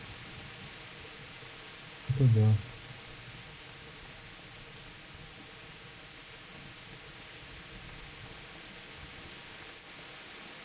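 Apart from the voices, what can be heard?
heavy downpour in video game Kingdom Come: Deliverance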